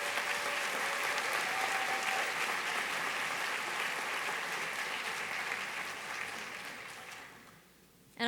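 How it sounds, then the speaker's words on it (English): Sustained audience applause fills a hall at an awards ceremony, steady and dense for about seven seconds before tapering off abruptly near the end. "So let's give a big round of applause."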